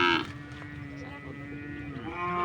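Carabao (water buffalo) lowing in a long, steady moo at a farm, close and loud, with a voice speaking faintly beneath it near the start.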